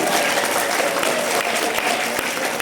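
Dense audience applause fills a workshop hall, steady and close with many hands clapping at once.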